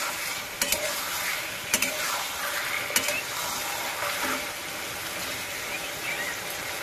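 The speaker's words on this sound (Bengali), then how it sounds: "এবার আমি এই জলটুকু একটু টানিয়ে নেব" Mushrooms cooking in a pan as the spiced water cooks off, a close, continuous frying sizzle broken by several sharp stirring clicks and scrapes of a spoon against the pan.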